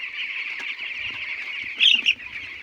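Farm chickens in a coop built above a fish pond make a continuous close cheeping chorus, with a brief louder burst of calls near the end.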